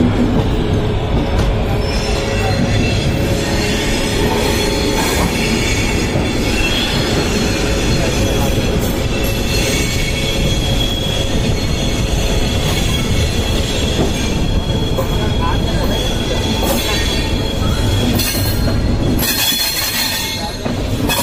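A passenger train rolls along the rails on an Indian route toward Satna, a loud continuous rumble with rhythmic wheel clatter and sharp squealing bursts close by, carrying on throughout.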